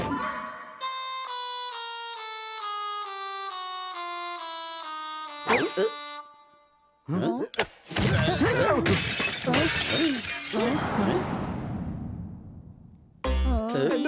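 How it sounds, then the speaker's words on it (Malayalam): Glass smashing loudly in a cartoon, a sharp shattering burst with scattered tinkling debris following a run of musical tones, with brief voices and other effects around it. "നിങ്ങൾ എന്റെ വീട്ടിലെ എല്ലാ ഗ്ലാസും പൊട്ടിച്ചില്ലേ?"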